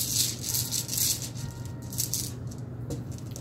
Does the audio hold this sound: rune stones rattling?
yes